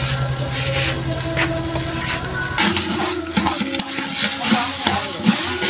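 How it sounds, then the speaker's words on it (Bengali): Spices with ginger paste, garlic paste and salt frying in a pot at an outdoor winter picnic, a steady sizzle at first, then scraping stirs and clinks of a spoon against the pot, fairly close. "ভেজে নিচ্ছি সুন্দর করে"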